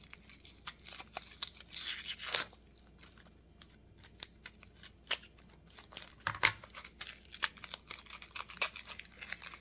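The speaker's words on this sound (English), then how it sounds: "And I'm going to peel the onion." Onion skin being peeled off by hand, a run of crisp papery crackles, snips and tearing rustles, close and fairly quiet, coming in irregular bursts.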